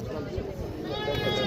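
Goats at a livestock market in Dera Ghazi Khan give short bleats close by, with a crowd talking throughout.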